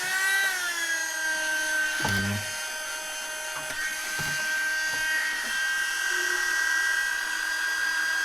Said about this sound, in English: This one to heat up a little bit this plastic thing